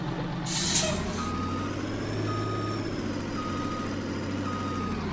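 A truck in the Farming Simulator 19 video game reversing to hook up to a trailer: a steady low engine drone with evenly spaced electronic reversing beeps and a short air hiss at the start.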